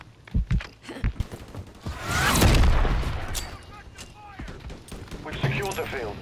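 Gunfire in the Call of Duty MW3 video game, with several sharp shots followed by a long rumbling boom and more scattered shots, loud and close, mixed with voices talking.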